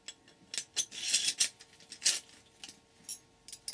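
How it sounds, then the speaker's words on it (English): Wood clamp being taken off and turned around during repair, giving a series of short clicking and ratcheting mechanical knocks, close and fairly quiet, irregularly spaced with no talk. "I can take off this clamp and turn it around"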